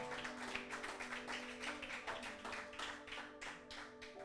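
A church congregation claps for the Lord during a Spanish-language sermon, with steady rapid clapping over an organ-like sustained tone, moderately distant and fairly quiet throughout.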